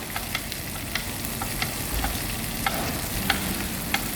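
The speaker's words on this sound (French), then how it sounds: "Et je saute chaque pièce à son tour." Pieces of white meat sauté in a frying pan with a steady, dense sizzle, broken by brief clicks and taps as the pieces are moved and turned.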